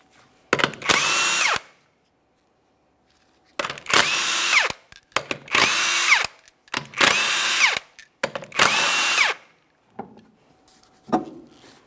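Impact gun removing the rear wheel lug nuts of a 2008-2017 Mitsubishi Lancer 2.4L: five loud, close ratcheting bursts, each lasting about a second, separated by short pauses, with no talking.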